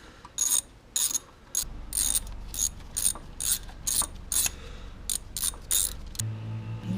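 A ratchet wrench clicks in quick bursts while unbolting a part on a 1991 Toyota Celica engine: close, crisp repeated ratcheting strokes in about a dozen short runs with brief pauses and low hum beneath.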